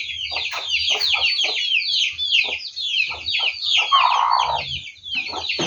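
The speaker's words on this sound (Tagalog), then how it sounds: "Para puro mga tandang." Roosters and hens on a rural farm, crowing and clucking repeatedly in a busy, overlapping chorus, fairly close and continuous throughout.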